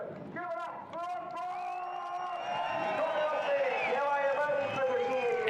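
A crowd cheers and whoops at a Summernats burnout competition as a 302 Windsor-powered car screams near 8,500 RPM, a high engine whine running steadily underneath the crowd noise, with a commentator talking over it.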